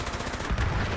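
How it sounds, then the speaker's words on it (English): Grenade blast in the video game Fallout 76, a loud burst of rumbling, crackling gunfire-like noise with a heavier low thump at mid-clip. "Grenade!"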